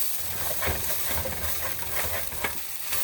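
Quinoa frying in a skillet over high heat gives off a steady, soft sizzle and hiss, with faint stirring scrapes and small crackles running through the whole stretch.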